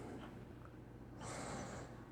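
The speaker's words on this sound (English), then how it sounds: "And I'm about to sniff it." A person takes one sharp, close sniff of a Darn Tough merino wool sock worn all day in a work boot. A quiet pause comes before the brief inhale, and no one speaks.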